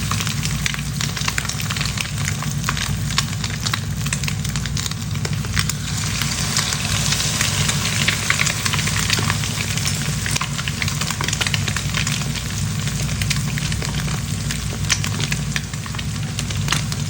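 Tortang tobias frying in hot oil, a constant dense sizzle and crackle heard close and fairly loud, steady throughout with no talk.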